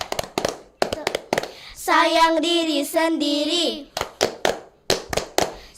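Children's group chant with rhythmic hand clapping: a run of sharp claps, then sung chant over a steady beat, then more evenly spaced claps under spoken words, close and loud.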